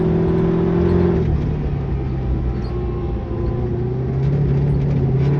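A car engine with a dogbox transmission drones loudly and steadily up close, its pitch dropping sharply as the driver downshifts using the clutch, then slowly rising again.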